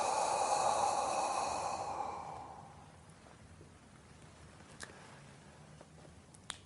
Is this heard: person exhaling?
yes